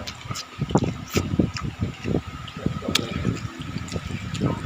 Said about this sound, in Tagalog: tubig naman ito.